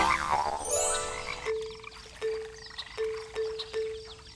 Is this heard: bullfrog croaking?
yes